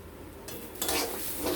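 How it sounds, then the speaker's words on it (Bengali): Moong dal frying in a pan and being stirred, with a steady scraping and rustling that grows busier midway, close and fairly loud with no talking. "আমরা ডালটাকে ভালো মতো করে আগে একটু লাল লাল করে ভেজে নেব"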